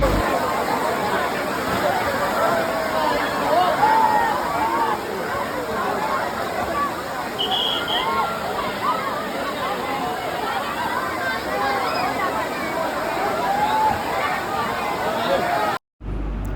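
Kempty Falls in Mussoorie gives a constant broad rush of falling water mixed with the busy babble of a crowd of visitors. The sound stays steady throughout, then cuts out abruptly near the end.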